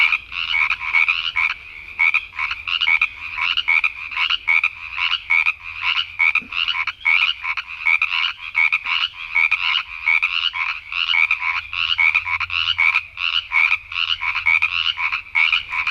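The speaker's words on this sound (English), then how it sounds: "All the frogs blowing up in the background, sun's going down." Frogs croak at sunset in a loud, continuous chorus of rapid pulsing calls that keeps going without a break, heard alone.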